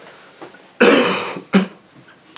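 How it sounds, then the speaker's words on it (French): A person with a lingering cough on a trip to London coughs twice: one long, harsh burst followed by a shorter, sharper one, close and loud against a quiet background. "je fais que de tousser durant ce vlog."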